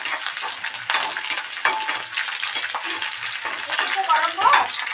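Green and dried red chillies frying in oil with onions while being stirred, a dense crackling sizzle with spatula scrapes and brief metallic squeaks near the end, close and fairly loud.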